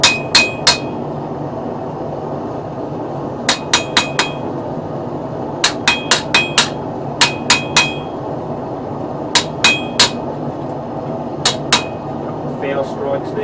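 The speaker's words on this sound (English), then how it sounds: "Just thicken up a little bit at the spine, just this front portion where I've been hammering it." A hammer strikes the spine of a steel seax knife blade, giving sharp, close, ringing metallic blows in irregular bursts of two to five, with pauses between them over a low background hum.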